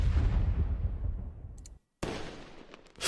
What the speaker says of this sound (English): But those are all exterior explosions.